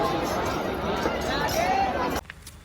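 Many voices overlap in a loud, close crowd hubbub as people bustle through a Vrindavan lane, the din cutting off abruptly near the end to leave a quieter background.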